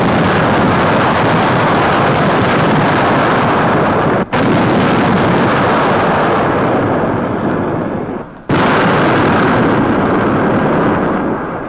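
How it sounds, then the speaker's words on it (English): WWII artillery hurling 300-pound projectiles, heard as a continuous loud, roaring barrage on a 1943 newsreel soundtrack, with two brief dropouts and no talk. "Weapons capable of hurling 300-pound projectiles many miles with amazing accuracy."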